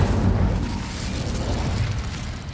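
Incendio fire spell cast in a Harry Potter video game: a loud whooshing burst of flame right at the start, settling into a lower crackling roar that slowly fades.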